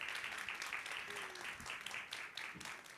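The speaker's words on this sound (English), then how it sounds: "A big round of applause to yourselves." Faint, distant audience applause at a leadership talk, a steady pattering of many hands under room noise, with a brief murmur partway through.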